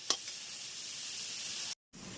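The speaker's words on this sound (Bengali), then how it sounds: "জাস্ট হালকা হাতে কিছুক্ষণ ভেজে নেব" Mixed vegetables with capsicum frying lightly in a pan, giving a steady, close sizzle with one brief clatter near the start and a short break near the end.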